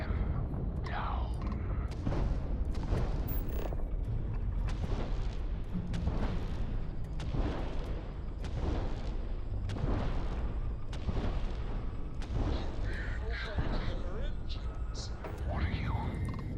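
Ship weapons firing in a Starfield space battle, a dense run of heavy booming blasts repeating through the whole stretch, loud and continuous, with voices speaking over the barrage.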